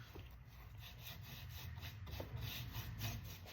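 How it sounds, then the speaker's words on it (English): Aging wax rubbed onto a thrifted home decor piece, a faint, steady scratchy rubbing with repeated soft strokes close by. "Then I'll just start to rub off the excess."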